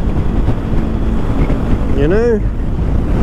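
Gusty wind rumbles against the microphone outdoors while a voice speaks briefly near the end.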